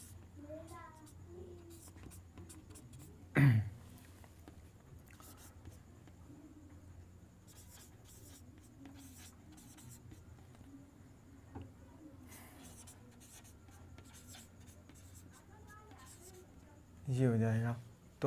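Marker or chalk writing a number series question on a classroom board, faint scratchy strokes coming in short bursts under someone speaking, with a couple of louder knocks.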